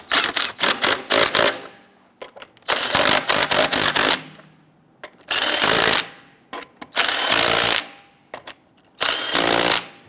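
Lug nuts on a Jeep Grand Cherokee wheel are snugged down with a power tool in loud, repeated bursts of rattling buzz separated by brief pauses.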